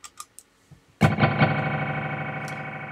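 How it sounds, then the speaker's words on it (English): A glitchy guitar effects pedal (TKOG Mini Glitch) set to a short, almost glitchy delay with reverb and drive on its random setting: a few faint plucks, then a loud distorted chord that sustains with stuttering repeats. "that sort of short delay that's almost glitchy in its own, and it's quite long, and then you add some reverb too"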